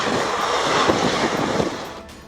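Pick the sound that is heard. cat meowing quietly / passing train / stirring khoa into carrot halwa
passing train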